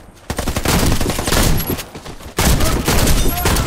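Rapid automatic gunfire in the Warface video game during a free-for-all match, loud dense bursts with a brief gap midway before firing resumes.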